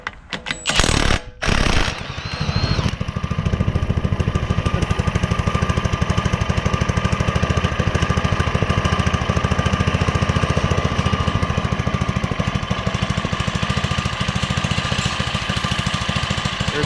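Factory minibike engine starting with a few sputtering bursts, then running steadily at a loud, rapid, rattling idle close by with no talk.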